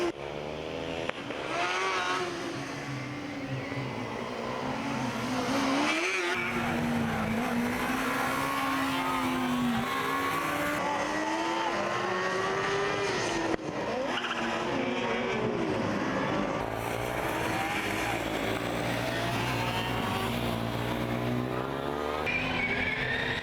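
Formula Student race cars lapping the track in an endurance event, a continuous, loud, high-revving engine drone with rising and falling pitch as the cars pass, plus brief tire noise and no talking.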